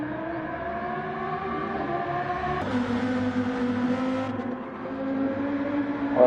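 A race car at the Fuji 12-hour qualifying session drives past, a steady engine drone rising in pitch and shifting as it passes, loud and continuous with no talk.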